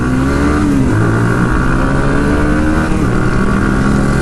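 GPX GR200R motorcycle accelerating on an open road, a loud, close engine roar with a rising rev, a brief gear change, then a steady high drone, with no talking.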